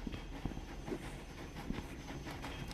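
A train rolls along in the Rec Room video game, a soft rhythmic rattling clatter with periodic clicks, faint and steady with no talking over it.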